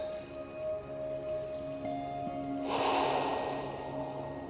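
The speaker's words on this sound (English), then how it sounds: "the breathing kind of settles and you can relax in it." Heavy breathing from a person sitting in freezing cold water during a northern Swedish winter, a loud breathy rush and exhale rising near the end over a steady low background hum.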